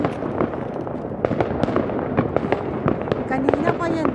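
New Year fireworks crack and pop in rapid irregular bursts, sharp reports close and distant over a constant noisy backdrop, with people talking throughout.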